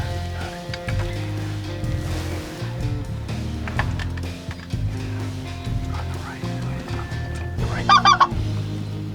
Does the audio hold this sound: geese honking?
yes